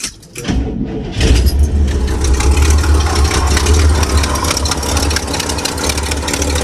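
A 1970 Cadillac hearse V8 fitted with an Edelbrock 1406 carburetor cranks briefly, then catches and settles into a loud, rough, rumbling idle that continues steadily close by with no talking.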